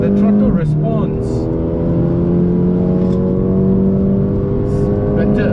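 A Mercedes-AMG A35 engine pulls hard on Sepang Circuit, a loud, sustained drone with steady rising harmonics and a brief dip as it shifts, continuous throughout with a voice speaking over it.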